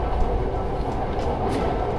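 Train at the Krungthep Apiwat station boarding platform, heard as a steady low rumble of rail transport with a faint rhythmic rattle throughout, no voices present.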